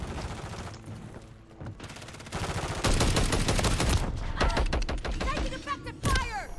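Rapid bursts of automatic gunfire in Call of Duty MW3 crackle loudly and continuously, punctuated by sharper single shots and metallic ricochets, with a voice speaking briefly amid the firefight.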